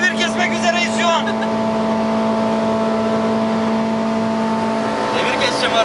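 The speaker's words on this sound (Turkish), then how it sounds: "5'te devir kesmek üzereyiz şu an." A car engine held at high revs in fifth gear near its rev limiter during a race, sounding as a loud, sustained, strained whine with a steady pitch and a slight wavering near the start and end, heard from inside the car.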